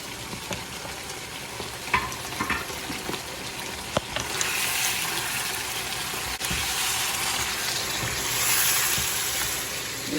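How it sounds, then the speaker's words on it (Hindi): Spices fry in a pan for biryani, giving a steady sizzle with scattered stirring scrapes and taps throughout, loud and close with no voices. "मसाले को सब भूनूंगी"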